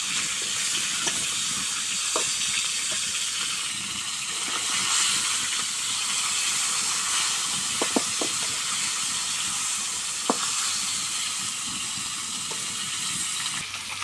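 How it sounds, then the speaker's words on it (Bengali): Tilapia fish frying in hot oil, with a loud, steady hiss and sizzle that holds throughout and a few soft clicks along the way. "তো মাছগুলো আমি ভেজে নেই"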